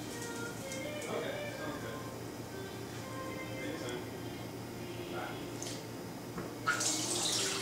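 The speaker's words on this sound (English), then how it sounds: "you can use a little bit of water to wash the wok" Water runs and splashes in a wok as it is rinsed clean after cooking beef, a steady faucet-like flow with brief louder splashes near the end, close by with faint background noise.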